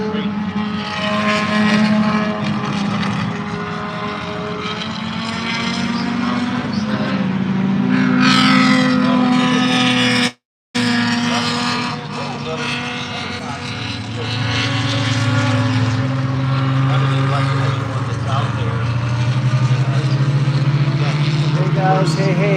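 Historic racing cars, among them a Mini Cooper, a Lotus Cortina, Porsches, Audis and BMWs, roar continuously around a track with loud, sustained engine drone and shifting pitch, briefly cut off midway, then resuming.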